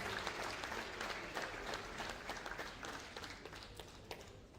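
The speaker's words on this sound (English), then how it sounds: "Please let's give them a round of applause." At an entrepreneurship lecture, an audience applauds college students seated among them with a dense, even round of clapping that carries on for several seconds, heard at low level as if from a distance.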